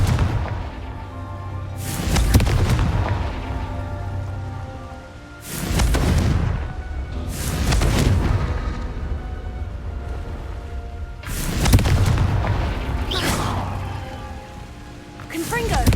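Blasting-spell explosions from a Harry Potter video game burst out in four or five loud, booming hits a few seconds apart, each trailing off into a rumbling decay over a low ambient bed, with speech present.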